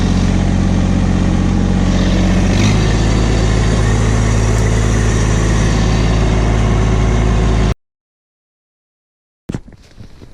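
A tractor engine runs steadily at close range with a deep, even idle throb on soft ground, cutting out abruptly near the end before a brief rough restart.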